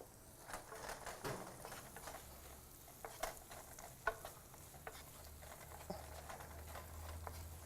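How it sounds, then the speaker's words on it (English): Onions sautéing in a pan at a home cooking demonstration, giving a quiet, steady sizzle and frying hiss with light scraping stir clicks and occasional sharp pops, alone without voices. "we're going to go in with our onions, and we're going to saute that as well"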